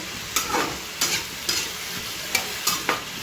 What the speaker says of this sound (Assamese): আলুটো ভুনি আছোঁ